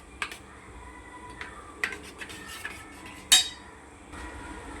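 A spoon clinks and scrapes against a bowl while yogurt raita with green chili is stirred, with a few sharp taps spaced irregularly and one louder knock near the end, close and fairly quiet, with no talking.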